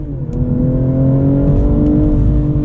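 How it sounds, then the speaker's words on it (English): A BMW M240i xDrive accelerating hard onto a highway lane, heard from inside the cabin as a rising engine drone with steady harmonics over road rumble and no talking. "Do an acceleration onto this lane."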